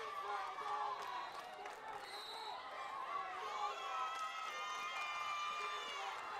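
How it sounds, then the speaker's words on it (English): A crowd fills a basketball arena during a close game, a sustained wash of many voices with chant-like rising and falling phrases and some cheering, heard from a distance. "The crowd is chanting"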